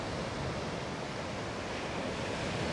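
Ocean waves washing onto a beach at San Clemente, a continuous broad rushing surf with some wind, steady and fairly close.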